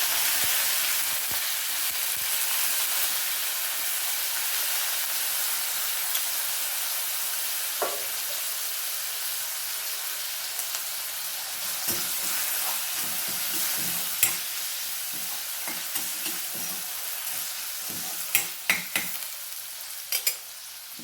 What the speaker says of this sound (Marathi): थोडीशी त्यात हळद घालते आणि बटाटे थोडे परतून घ्यावे